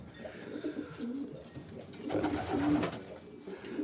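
Racing pigeons coo softly and repeatedly inside a loft, several low murmuring calls overlapping over quiet background rustle, no voices.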